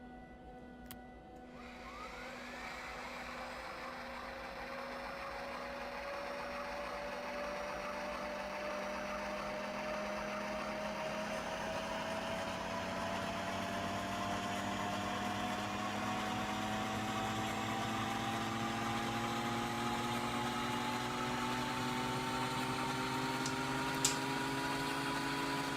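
A Bf 109G-6 fighter in Microsoft Flight Simulator at Duxford, its inertia starter winding up in a steady rising whine before the engine catches and settles into a loud, continuous drone throughout.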